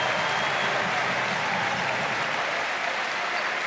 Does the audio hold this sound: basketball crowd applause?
yes